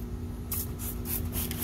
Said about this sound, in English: You spray it on there,